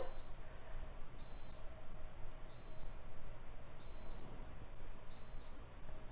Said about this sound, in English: I don't know why it's still beeping